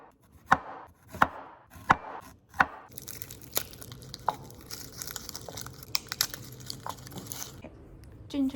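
Ginger and garlic being chopped with a knife on a board, sharp close thwacks spaced out at first, then quicker, denser chopping mixed with crinkly handling noises; no talking.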